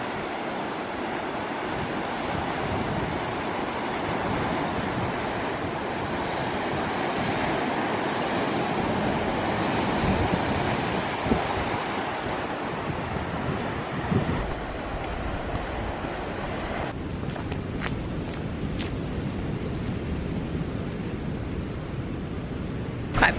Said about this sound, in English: Quite a breezy one today